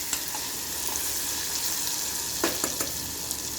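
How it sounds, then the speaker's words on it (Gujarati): Stuffed brinjal and potatoes sauté in hot oil with a steady, close sizzle, broken by a few sharp scraping clacks of a spoon stirring near the end. "આ રીતે તેલમાં થોડુંક સાંતળવાનું"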